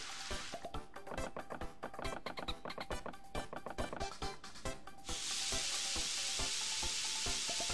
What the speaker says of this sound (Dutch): laten we de mushroom eens even proberen te koken